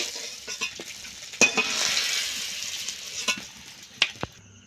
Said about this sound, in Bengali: খুন্তি দিয়ে আলুটা তুলতে একটু অসুবিধা হচ্ছে